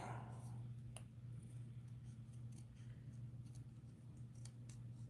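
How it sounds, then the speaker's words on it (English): Scissors cut through card for a handmade card, making faint, sparse snips and crisp clicks close by over a low steady room hum. "I'm just going to cut this off."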